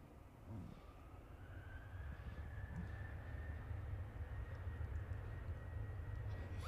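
Aircraft taking off from runway 22 at London Stansted Airport, a distant low engine roar that builds gradually and holds steady, with a faint rising whine over the rumble.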